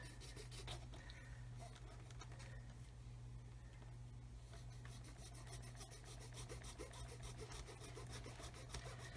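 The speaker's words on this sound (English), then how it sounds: "get the saw, run it into that groove, okay, and then I can just literally saw this off" A hand saw rasps steadily through the plastic chassis of a 1/35-scale HobbyBoss Land Rover Defender SWB model. The quiet, close back-and-forth strokes run evenly throughout, with no talking.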